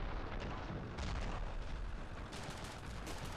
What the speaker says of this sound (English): What is with all the explosions?